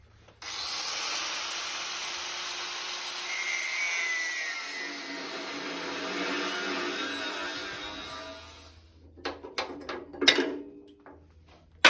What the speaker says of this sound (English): I should now be able to just cut through the welds that are holding this bracket in place